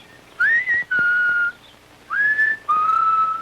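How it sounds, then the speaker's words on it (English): Kids whistling a cheerful tune in a 1950s Kool-Aid commercial: two pairs of clear, sustained whistled notes, each rising and then held, loud and close with no talk over them. "Bunch of kids whistling."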